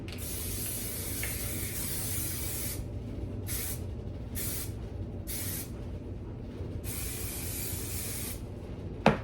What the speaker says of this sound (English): so I'm gonna fill her up with Hairspray.